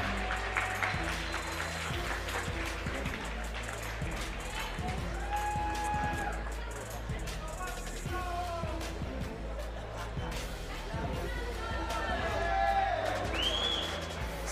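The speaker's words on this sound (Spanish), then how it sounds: "Recibe el aplauso espontáneo por parte del público de ambos equipos." Live audience at a women's combat sports bout between Chile and Argentina breaks into spontaneous applause, a steady dense clapping and crowd murmur filling the arena throughout, swelling slightly toward the end.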